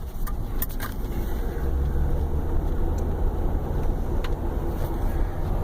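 Car engine and road rumble heard from inside a moving car made to look like a police cruiser, a steady low drone with faint rattles, no talking.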